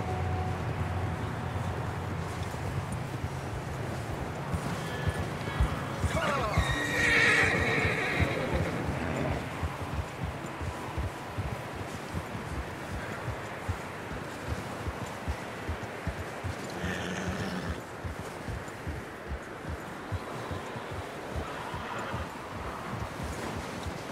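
Horses whinny and hooves clip-clop over wind in Red Dead Redemption 2, with a loud neigh near the middle and steady hoof beats throughout.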